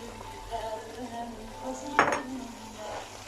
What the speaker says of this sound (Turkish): Şimdi havucumu koyuyorum.